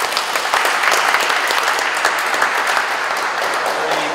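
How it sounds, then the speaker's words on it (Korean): Audience applause of congratulation at the launch ceremony of the Incheon Startup Park in Korea, a dense, steady round of clapping from a large crowd that holds at an even level for about four seconds. "그런 의미에서 우리 다시 한번 축하의 박수를."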